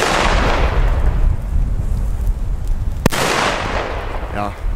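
A Klasek DumBum firecracker with a 0.5 g friction-head fuse cracks in one loud, sharp bang outdoors, with steady broadband noise all around it.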